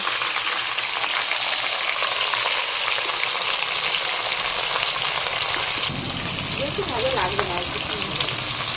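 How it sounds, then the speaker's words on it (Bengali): Pieces of rohu fish fry in hot oil for a fish curry, a loud, steady broadband sizzle running throughout, with a shift in texture partway and faint talk and clinks underneath toward the end. "একটা একটা করে মাছ দিয়ে দিচ্ছি ভাজা মাছ আবার ভাজা হচ্ছে"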